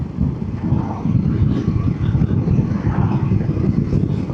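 Riding a VOGE DS900X adventure motorcycle at about 70 mph on a dual carriageway, with a steady engine drone mixed with heavy wind rush over the microphone, continuous and fairly loud, no talking.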